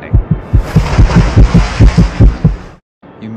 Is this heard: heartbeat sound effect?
yes